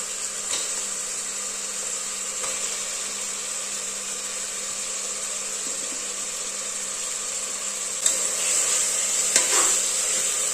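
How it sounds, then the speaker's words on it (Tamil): Chopped tomatoes fry in a hot pan for mushroom biryani, giving a steady, even sizzling hiss throughout, with a couple of brief scrapes from the stirring spoon near the end. "இப்போ நம்ம கட் பண்ணி வச்சுருக்கிற தக்காளி ஆட் பண்ணிக்கலாம்"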